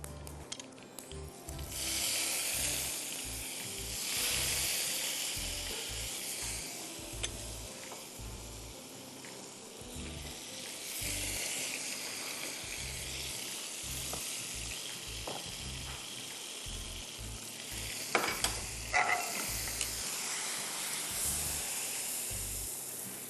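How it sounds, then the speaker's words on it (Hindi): Hot tadka tempering poured into sambar in a cooking studio, a broad hiss and sizzle that swells and fades repeatedly, with low rhythmic thumps underneath and no talk. "पूरा तड़का आपने उठा के इसमें डाल दिया।"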